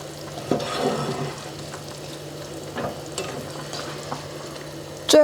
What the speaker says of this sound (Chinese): 然后我们用锅勺把它搅拌均匀